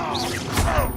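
Levioso spell cast in Hogwarts Legacy, a bright whooshing magical swish with sweeping tones and a soft impact, loud and close, lasting about a second with no speech.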